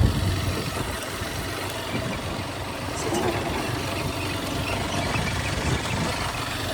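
A road motorcycle labours along a rough off-road village track in Palpa, Nepal, its mid-pitched engine droning steadily at moderate level with faint talk in the background.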